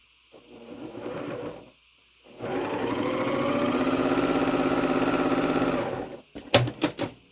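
A sewing machine stitches a snowflake quilt block: a short burst of running, a pause, then a longer steady run of about four seconds that stops, followed by a few sharp clicks, all close and alone.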